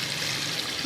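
Water is poured steadily into a cooking pot of meat, a continuous close rushing splash with no breaks.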